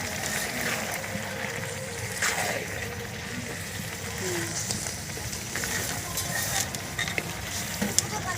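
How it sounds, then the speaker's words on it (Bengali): Pumpkin laddu mixture being stirred in a pan over a fire, a continuous low sizzle with soft scraping and occasional clicks, close and moderate, with no clear talk. "আমি একটু নেড়ে চেড়ে নামিয়ে নেব।"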